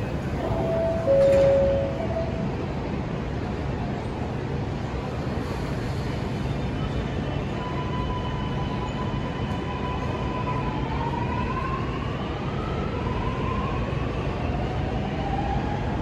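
A Sydney Metro train rumbles steadily at the Central Station platform, with a brief chime early on and rising and falling whines of motors as it moves.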